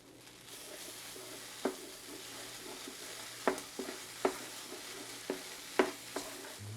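A Mexican pizza filling with hot sauce sizzles in a skillet, a constant bright frying hiss with sharp clacks of a spoon or spatula scraping and stirring the pan every second or so.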